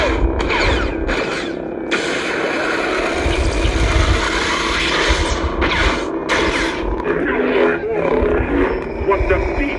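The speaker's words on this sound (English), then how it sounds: "This is one of the Vader sound fonts from the Kenobi series." Darth Vader lightsaber sound font from the Kenobi series, played through an installed saber board: a deep roaring hum with growling swells and crackling clashes, continuous and loud, with a deep voice speaking over it.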